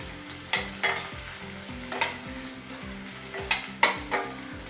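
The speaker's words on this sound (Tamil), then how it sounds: "இப்போ இது எல்லாத்தையும் சேர்த்து நல்லா நாம் வதக்கி விட்டுக்கலாம்." Onions, garlic and ginger sizzle in a hot pan while a spoon scrapes and clinks against the metal in irregular stirring strokes.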